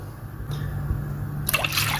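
Water pours into flour for nehari dough, starting as a faint trickle and then rising into a louder, splashing pour near the end, with no talking.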